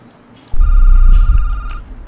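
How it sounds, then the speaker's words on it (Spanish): A telephone rings in the Security Booth horror video game, a loud sustained electronic ring with a steady tone over a heavy low rumble, lasting over a second before fading. "Me llaman por teléfono."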